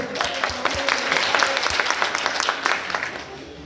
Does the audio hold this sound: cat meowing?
no